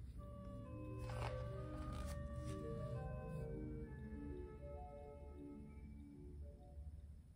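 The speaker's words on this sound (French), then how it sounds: "Écoute le chant de la baleine que j'ai entendu sur la mer." Long tonal whale song with sliding, wavering calls layered over a steady low rumble of sea, continuous and fairly faint throughout, no speech.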